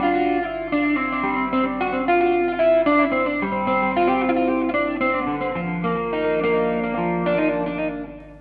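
An electric guitar played through an original Line 6 Pod with delay and chorus effects rings out in a string of shimmering, echoing notes and chords, loud and alone for several seconds.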